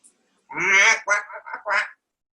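A duck quacks nearby: one long, nasal call, then three quicker, shorter quacks, clear and close against silence.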